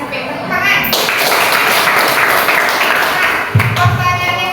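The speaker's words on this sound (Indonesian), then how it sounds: "Tepuk tangan." Classroom applause, a loud burst of many students clapping together, dense and sustained, with a voice and a thump near the end.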